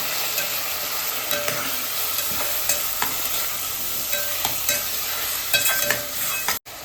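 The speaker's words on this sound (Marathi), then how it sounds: "आता आपण 3 ते 4 जे मिडियम साईज टोमॅटो बारीक चिरलेले तर यात टाकून घेतले" Finely chopped medium tomatoes and onion stirred in a pan for mutton sukka masala: continuous close sizzling with frequent scraping spatula strokes, no voices.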